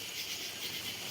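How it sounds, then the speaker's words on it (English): Steady high, dense insect buzz of a cicada flying about, continuous and fairly loud across the whole moment with no pauses, no voices. "That's a cicada. Flying aimlessly."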